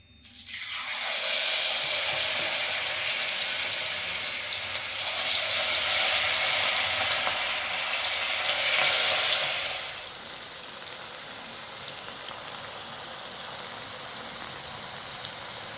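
Cauliflower pieces for gobi manchurian drop into hot oil and set off a loud, dense, close sizzle that holds for about ten seconds, then settles into a quieter, steady frying hiss.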